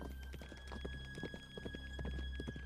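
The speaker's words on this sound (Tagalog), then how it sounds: "may naririnig si Talio na parang yabag ng isang kabayo sa di kalayuan" Horse hooves clip-clop in a slow, uneven rhythm some distance away, a series of soft knocks over a steady low hum and background noise.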